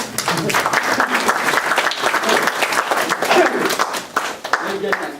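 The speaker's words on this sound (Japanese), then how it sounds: "ちょっと拍手してあげてください。" Steady applause from a crowd fills the room at a monthly meeting with the ambassador of the Maldives, dense and sustained, with some voices mixed in beneath the clapping.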